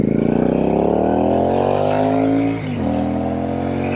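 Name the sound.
RE Shotgun motorcycle engine with AEW slip-on exhaust pipes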